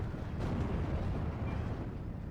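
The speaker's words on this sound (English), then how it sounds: "Artillery's doing a little damage, not much." Artillery fire in the multiplayer war game Steel Division 2 makes a continuous, dense rumble of distant blasts that blur together without clear separate hits.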